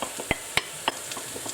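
An onion and garlic cooking in a pot, with short clinks and scrapes of a utensil stirring over a faint frying hiss.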